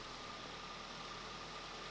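A car engine idling steadily just after starting again once a relay was swapped, a low even rumble with a faint regular pulse, quiet and continuous with no talking.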